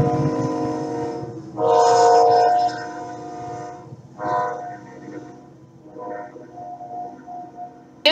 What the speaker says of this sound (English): the train drives by like once every 45 minutes